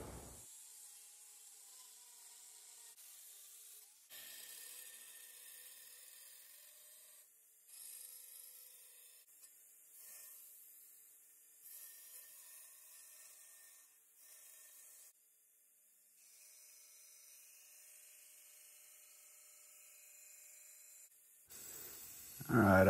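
A steel sword blade blank is cut out, giving a sustained, hissing, high rasp that runs in several stop-start stretches over about twenty seconds, fairly close and steady, with no talking.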